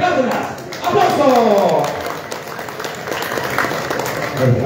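Audience applause at a motocross press conference in Pucallpa, Peru, loud, dense and continuous clapping from a crowd, with a voice speaking over it at the start and a swelling pitched tone sweeping through.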